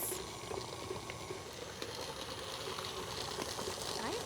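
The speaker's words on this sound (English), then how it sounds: "We're going to get that bowl securely to that KitchenAid. And we're going to want to beat this for about 3 minutes." A KitchenAid stand mixer beats carrot cake batter in its bowl with a steady, moderately quiet churning whir that carries on evenly throughout, touched by faint rattles and knocks.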